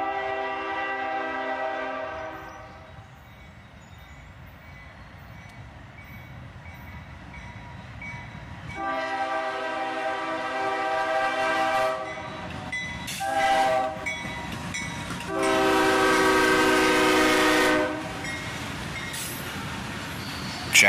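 A diesel freight train led by a worn ES40DC locomotive rumbles past with rolling wheel noise, sounding several loud blasts of its horn, the longest near the end.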